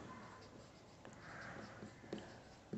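Pen or marker writing an algebra equation on a surface, with a few faint strokes and taps over steady background hiss, close and quiet with no voices.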